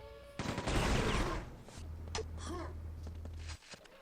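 A rocket launcher fires in a Quake 2 deathmatch: a loud blast and roar up front, then a lower sustained rumble with scattered in-game effects, no talking.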